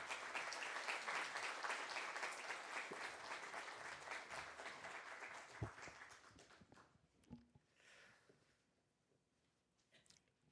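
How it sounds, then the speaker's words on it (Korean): A church congregation at a deacons' seminary gives loud, sustained applause to welcome a pastor, the clapping fading out partway through into quiet room noise with a few scattered footsteps and shuffles. "우리 목사님 나오실 때 큰 박수를 한번 맞아주시면"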